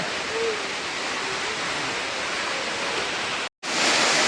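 Heavy rain pours down as a dense, steady hiss that fills the space, close and loud, with a brief cut near the end before it resumes; faint voices may be present underneath.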